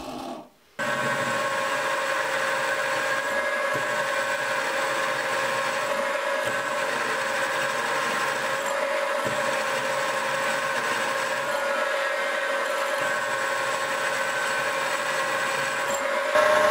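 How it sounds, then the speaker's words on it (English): Steady machine whine with a constant mechanical hum runs throughout as holes are machined for a lathe cross slide nut, likely on a mill, with a brief quiet moment near the start and no talking. "Next, we can make the holes for the cross slide nut."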